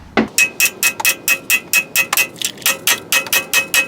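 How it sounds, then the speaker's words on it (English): Steel hammers striking a Toyota 4Runner's front spindle to break loose the ball joint, about sixteen sharp metallic blows in a steady rapid rhythm, close and loud, with no talk. "Put the large hammer on one side so the suspension's not absorbing the shock, and hit the other side of the spindle here so that the ball joint comes loose."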